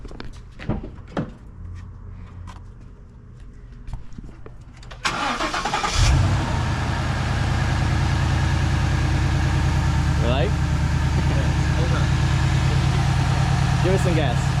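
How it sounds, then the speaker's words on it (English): A Ford Mustang GT engine fitted with a K&N filter cranks and catches, then settles into a steady, loud idle after a few quiet clicks and shuffles. "So now we're gonna crank her up and see how she sounds."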